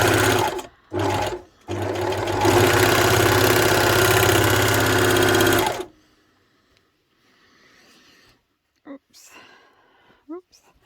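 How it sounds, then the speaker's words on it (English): An overlocker sewing machine stitches and trims threads with a loud, fast mechanical chatter, starting in two short bursts and then running steadily for about four seconds before stopping. A voice speaks faintly afterward. "I'll try and give you a quick demonstration of how it works"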